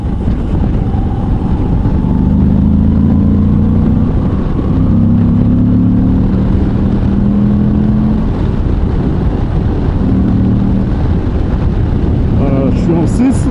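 A Moto Guzzi V85 TT travel motorcycle riding in sixth gear at 3000 rpm, with a steady low engine drone under heavy wind rush, heard continuously from the rider's position at speed.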